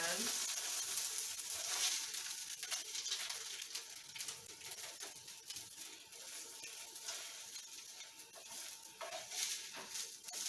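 A vegan egg fries in a pan with a continuous soft, crackly sizzle that holds steady throughout, quiet and close, with occasional small clinks and scraping in the background.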